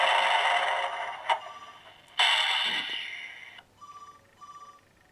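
A mobile phone rings with a melodic theme-tune ringtone, a few short tonal phrases sounding faint in the background.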